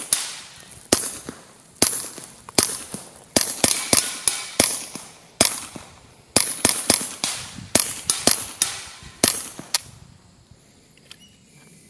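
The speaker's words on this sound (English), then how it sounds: "Loaded up another of these BX-15 mags with CCI standard velocity, and gonna shoot it some more." A Ruger Charger 10/22 pistol with a 15-round BX-15 magazine fires CCI standard velocity .22 rounds outdoors: about fifteen sharp, close cracks, some in quick pairs, others spaced, each with a brief decaying tail.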